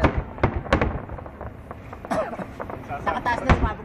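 Eid al-Fitr fireworks over Riyadh burst overhead in a series of sharp booms and crackles, some distant and some nearer, while people chat nearby throughout.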